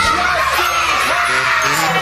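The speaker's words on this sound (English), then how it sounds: "Give yourselves a big cheer." A young children's audience at a kids' TV show cheers and whoops continuously, a loud dense crowd wash with shrill shouts rising through it for the whole stretch.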